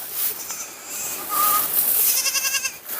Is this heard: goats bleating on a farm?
yes